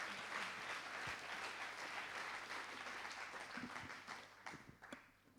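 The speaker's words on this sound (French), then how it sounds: "On vous applaudit encore et encore bravo à BNP Paribas pour cette corbeille." Applause from the audience at the 2014 Corbeilles financial awards evening, a dense round of clapping that thins toward the end into scattered individual claps.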